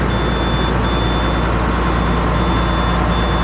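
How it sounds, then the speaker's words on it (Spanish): An International 4300 truck from 2007 with a 190 HP Navistar six-cylinder engine idles steadily, a loud constant low rumble with a faint high whine, no voices. "Ahí lo tenemos funcionando en muy buenas condiciones de motor. Motor Navistar de 6 cilindros."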